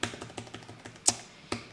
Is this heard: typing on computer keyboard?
yes